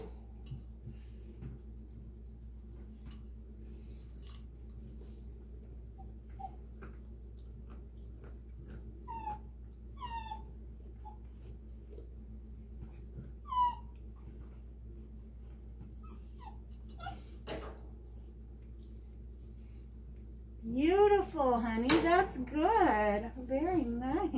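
A puppy whimpers and cries while chewing on a bone next door, with faint scattered whines through most of the clip before louder, close whimpering near the end.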